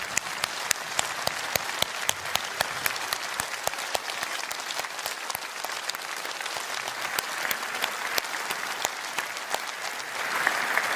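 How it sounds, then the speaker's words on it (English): A rally crowd at a Reform UK event in Leeds applauds council candidates standing up, a dense, steady round of clapping that carries on loud and unbroken, swelling slightly near the end. "Let's give them a round of applause, everybody."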